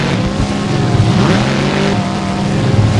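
Monster truck Monster Destruction on a time attack run at a Jacksonville tournament, its engine loud and close, revving and roaring with rising and falling pitch for about three seconds.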